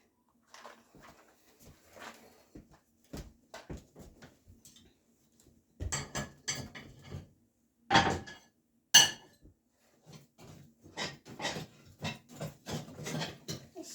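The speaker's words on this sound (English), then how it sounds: "Stirring the ashes from yesterday so they fall to the" Yesterday's ashes are stirred in a wood stove before a fire is lit, making sparse scraping and clinking taps of metal on the firebox, with a few louder knocks and rattles in bursts amid quiet gaps.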